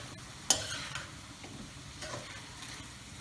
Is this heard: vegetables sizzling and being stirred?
yes